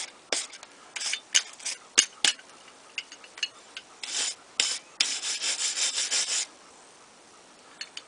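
Black & Decker power tool scouring rust and paint off seized metal, heard as intermittent rasping scrubbing bursts, some short and some sustained, fairly close with quiet gaps between passes.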